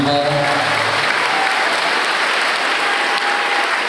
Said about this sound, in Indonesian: Dan tepuk tangan untuk kita semuanya hari ini.